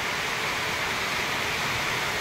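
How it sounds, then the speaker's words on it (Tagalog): Heavy rain pours onto a galvanized iron roof in a dense, unbroken hiss, loud and steady from start to finish with no pauses or voices. "Lakas ng ulan."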